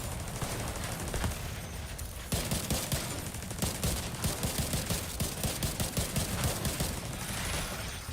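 Sustained automatic gunfire and explosions from The Division 2, a dense, loud, continuous barrage of rapid shots with heavier bursts and a sharp jump in intensity partway through, no voices.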